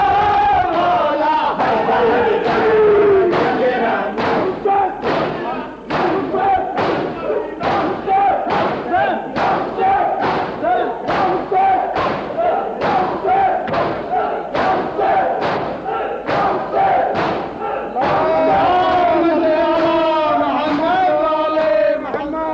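A large crowd at a Muharram majlis in Kuwait chants religious slogans in loud, rhythmic unison, the shouts punctuated by regular heavy beats and thuds, with a voice leading between the chants.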